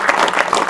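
An audience claps at an anniversary celebration, a short burst of steady, dense applause filling the room.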